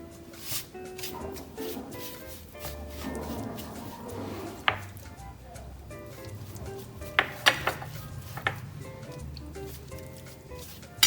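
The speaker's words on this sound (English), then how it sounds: "mix them together" Fish marinade ingredients for tilapia fry being mixed together in a bowl, giving soft wet squishing and patting sounds with a few sharp clinks, close and fairly quiet, with faint background hum.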